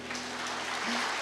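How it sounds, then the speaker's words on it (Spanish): Audience at a church family-restoration congress applauding, a brief, steady wash of clapping with a faint tonal hum underneath and no speech. "Denles un aplauso fuerte."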